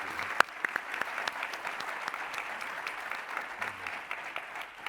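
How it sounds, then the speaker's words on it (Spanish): Audience applause at a Spanish-language corporate panel on sustainability and communication, a steady moderate clapping from a seated crowd that holds evenly throughout, with a few sharper individual claps standing out. "Un fuerte aplauso"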